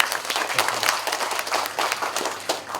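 Guests at a posyandu award rechecking event in West Java applaud, a moderate crowd clapping in irregular bursts, close and fairly lively across the whole stretch.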